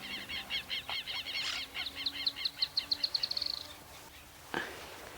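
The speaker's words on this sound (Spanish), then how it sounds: "Escuchamos trinos alborotados en otro tala." Small birds in a tala tree beside the Río de la Plata, chirping and trilling in rapid bursts, then a fast accelerating trill of clear notes, fairly close, with a short sharp call near the end and no talk.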